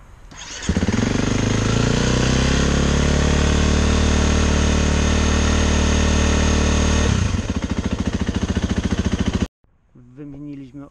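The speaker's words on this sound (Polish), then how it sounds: "możemy zapalić motor." A 2015 KTM EXC-F 250 motorcycle, just after an oil change, starts up and settles into a loud, steady idle for several seconds close by. The engine then cuts out and someone speaks afterward.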